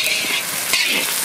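Onions sizzling steadily in hot mustard oil in a pan, cooking for a Bengali village-style mutton do-pyaza, a close, continuous crackle with no talk.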